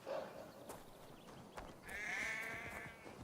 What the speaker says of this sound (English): The sheep follows my whistle.